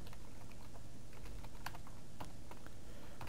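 Someone types code on a computer keyboard, a quick, irregular patter of key clicks over a steady low background hum, with no talking.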